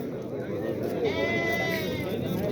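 A sheep bleats with a drawn-out, wavering call at a busy livestock market, heard over a constant murmur of voices and crowd noise.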